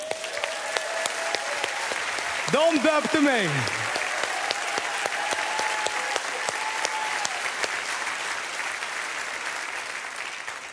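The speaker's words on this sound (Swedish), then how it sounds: "En applåd för dem." An audience at a live Swedish gathering applauds the speaker's parents with sustained, even clapping that fills the room, while a voice speaks briefly over it.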